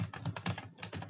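Keys clack on a computer keyboard as a search term is typed into the extensions tab of the VS Code editor, a quick close run of about a dozen keystrokes with no talking.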